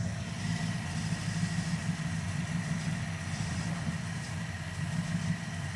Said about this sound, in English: she's still misfiring just a little bit